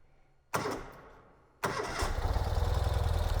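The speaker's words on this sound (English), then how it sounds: "So let's get this bike started." A 2021 Ural motorcycle engine cranks briefly, pauses, then catches and starts, settling into a loud, steady idle close by.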